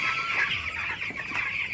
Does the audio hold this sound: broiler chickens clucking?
yes